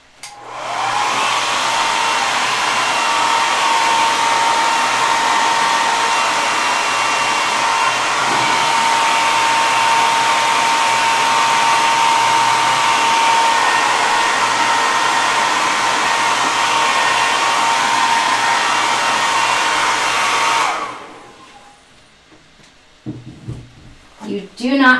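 A hair dryer blows steadily across runny acrylic paint during a honey bee painting session, a loud continuous whoosh lasting about twenty seconds before cutting off, followed by faint handling noises.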